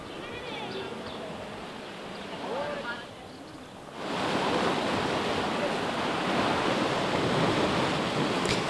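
Waves breaking against the old stone sea walls of Monemvasia, a broad continuous wash of surf that swells louder halfway through, with people talking faintly at first.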